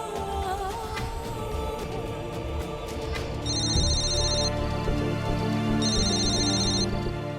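A phone rings twice with a bright, electronic ringtone, each burst lasting about a second, over a steady music bed in a domestic scene.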